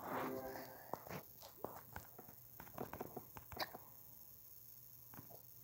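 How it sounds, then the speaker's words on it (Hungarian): A person hiccups a few times, short sharp catches near the start, followed by scattered soft clicks and taps in a quiet room. "Miért csuklasz?"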